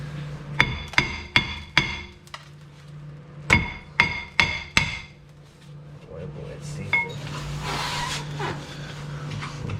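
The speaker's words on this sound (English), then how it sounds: "Now we probably have to hammer the back of it." Sharp metallic hammer blows strike the back of a front brake caliper on a Mercedes W163 ML350, two quick bursts of four close, loud hits, followed by lighter clinks and rustling.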